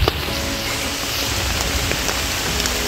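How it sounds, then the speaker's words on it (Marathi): Steady unseasonal rain in the Konkan countryside, falling continuously on surfaces as a dense, even hiss with scattered nearby drops, loud and close with no voices. "पाऊस कंटिन्यू लागत आहे सकाळपासून नॉनस्टॉप"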